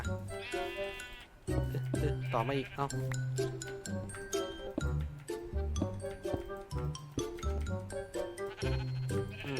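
Minecraft sheep bleat repeatedly at an automatic wool shearing machine, with clinking game effects and background music while a person talks over them.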